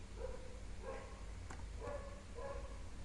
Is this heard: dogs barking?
yes